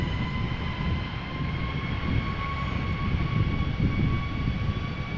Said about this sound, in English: 507, Boeing 737 MAX 8 going to Reykjavik.